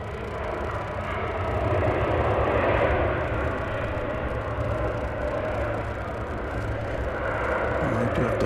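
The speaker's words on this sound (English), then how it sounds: "Here comes United, an American Airlines plane, the first of countless American Airlines planes we will see this morning" An American Airlines jet arriving at DFW Airport, its engines a steady broad roar that swells slightly and holds throughout, heard from a distance on a live broadcast with some static and no talk over it.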